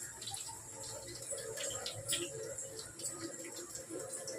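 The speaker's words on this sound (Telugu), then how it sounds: "మనం నీళ్ళు వంచేసుకోవాలి." Water from boiled cabbage being poured off in a home kitchen, a steady splashing pour that runs throughout at moderate loudness with no talking.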